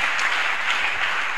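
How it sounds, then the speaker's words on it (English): A church congregation at Eden Miracle Ministries claps steadily together, a dense, even wash of many hands close by, with no voices over it. "Clap your hands for that word"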